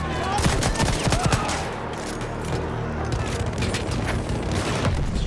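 Gunfire in the World War I shooter Battlefield 1, dense bursts of close shots crackling over a loud battle din of explosions and distant fire, with no clear separate pistol shots standing out.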